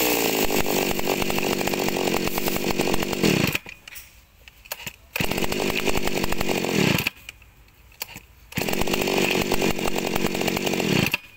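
A small 26cc chainsaw engine roars loudly at high revs, dropping to idle twice for a second or two before revving back up each time.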